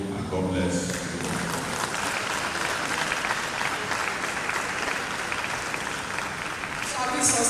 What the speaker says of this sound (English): Shall we sustain the applause for our registry?